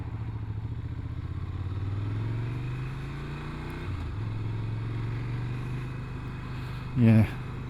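A Ducati Scrambler Desert Sled motorcycle rides in first gear with a steady low engine drone that rises slightly and then settles, heard close, with a brief clatter near the end.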